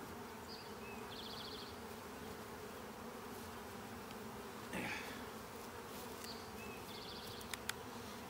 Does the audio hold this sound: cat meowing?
no